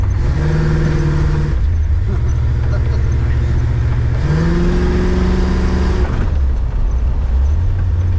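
An Oldsmobile driven at full throttle on a wet road, its engine revving hard in rising sweeps through gear changes, loud and close from inside the car, with brief voices under it.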